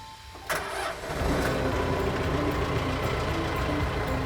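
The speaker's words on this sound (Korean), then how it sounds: "그러면 시동을 걸어 보겠습니다." A Kubota-style A5800 tractor diesel engine cranks and catches at about half a second, then settles into a loud, steady close-up rumble with a brief rev near the one-second mark.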